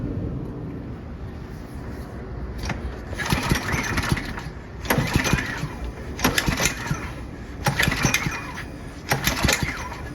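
A Murray go-kart engine cranks with repeated pull-cord tugs, each burst of rough, sputtering turnover rising in regular surges over steady background noise, without catching and running.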